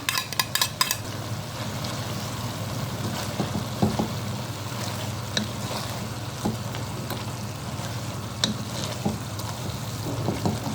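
Onions fry steadily in oil for shiro, an Ethiopian chickpea stew made with vegetables. A constant close sizzle runs throughout, with scattered clicks and scrapes from stirring and a low steady hum beneath.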